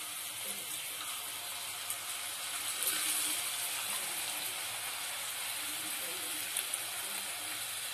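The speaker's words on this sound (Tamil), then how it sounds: "எண்ணெய் ஹீட் ஆயிடுச்சு. இப்போ வேர்க்கடலை சேர்த்துக்கலாம்." Raw peanuts fry in hot oil in a kadai over a medium flame while masala kadalai is made. A steady, soft sizzling hiss runs throughout, with a few faint pops.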